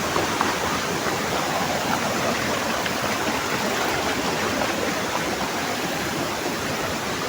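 A swollen river rushes past in a loud, unbroken roar of churning water, steady and close, with no voices.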